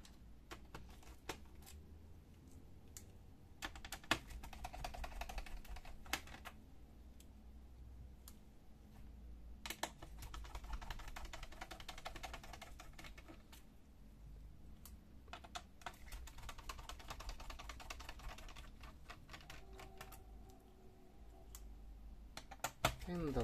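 Screws are taken out of the base of a Dell Inspiron 15 3573 laptop with a screwdriver, giving faint, scattered close clicks and ticks beneath someone speaking quietly.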